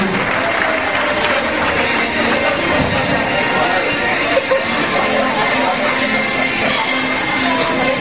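An audience at a JCI event applauds steadily, a dense wash of clapping with crowd chatter mixed in throughout.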